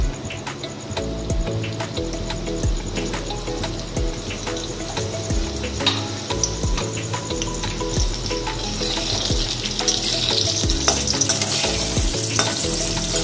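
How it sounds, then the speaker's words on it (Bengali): Potato pieces frying in hot oil for a Bengali pui saag chorchori, a loud continuous sizzle with stirring scrapes throughout and a steady low hum beneath, with no talking. "আলুগুলো প্রায় ভাজা হয়ে গেছে"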